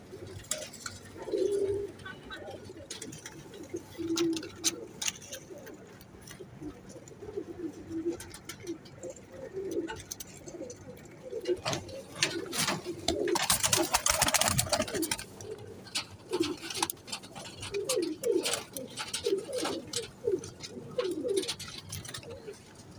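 Teddy Sialkoti pigeons coo in a loft, a breeding pair among them, with repeated low throaty coos close by amid fluttering, scratchy patter and rustling bursts.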